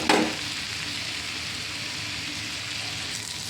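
Hilsa fish with bean seeds frying in a pan, a loud steady sizzle after a brief stirring knock at the start, with no voices.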